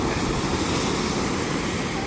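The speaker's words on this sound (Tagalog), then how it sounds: "Lakas ang alon." Strong ocean waves surge in the Davao Gulf as a dense, steady broadband roar of surf, loud and continuous with no clear pauses, carrying a wind-like wash throughout.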